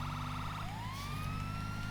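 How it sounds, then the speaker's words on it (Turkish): A police car siren in the video game GTA V wails continuously and loudly, its pitch sweeping upward then holding a rising tone over a steady engine-like drone. "Aç sireni Recep."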